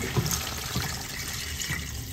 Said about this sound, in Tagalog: At maglagay na po tayo ng tubig.